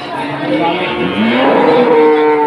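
Cattle low loudly and close by at the Wirosari cattle market in Grobogan, Central Java, a long drawn-out moo swelling in the second half over steady market bustle.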